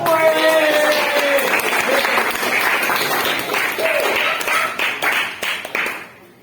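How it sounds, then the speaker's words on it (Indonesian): Students applaud in a classroom, a dense burst of clapping that fills the space and fades out near the end, with voices mixed in underneath. "Tepuk tangannya dong."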